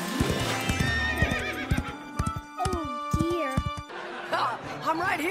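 A horse in a cartoon scene neighs and whinnies over steady clip-clopping hooves, with cartoon voices and sound effects mixed in throughout.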